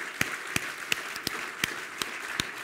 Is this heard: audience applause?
yes